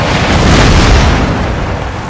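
Artillery cannon fire in the strategy game Empire: Total War, a loud, sustained rumbling boom that fills the whole stretch and rolls off slowly, with no voices over it.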